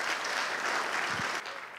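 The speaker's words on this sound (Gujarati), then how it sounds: "એટલે હવે જોરદાર તાળી વગાડજો." Audience applause at a live celebration marking a 100th episode, a dense, steady wash of many hands clapping for the whole stretch before it thins near the end.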